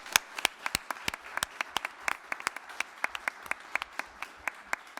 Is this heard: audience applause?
yes